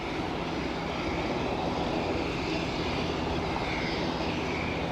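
A KLM airliner roars at Aberdeen airport, a steady broad engine rush holding loud and even across the whole stretch with no voices.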